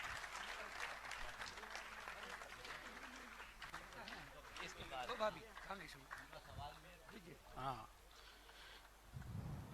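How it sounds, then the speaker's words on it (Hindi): A religious gathering honouring women guests with sustained audience clapping spread across the room, steady and moderately distant, with an announcer's voice speaking over it throughout. "आप लोग तालियां बजाते हैं जब तक सम्मान का क्रम चल रहा है"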